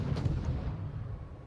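A warship in World of Warships fires its guns, a heavy booming blast near the start that rolls into a low rumbling decay over the next second.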